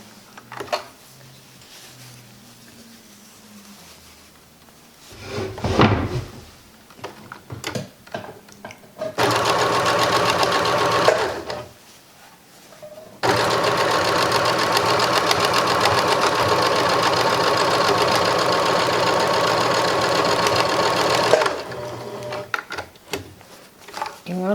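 A sewing machine stitches a reversible shoulder bag in two long steady runs of loud, even mechanical whirring, separated by quieter handling noises and brief pauses.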